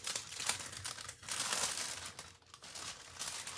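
Iridescent cellophane wrap from a thick 34-inch roll crinkling and crumpling up close, a continuous crisp rustle with brief dips, no talk.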